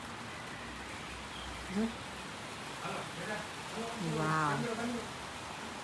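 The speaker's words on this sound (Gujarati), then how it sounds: "વરસાદ ચાલુ થયો" Rain begins to fall outdoors, a soft, steady hiss that is faint and continuous, with voices talking and exclaiming over it.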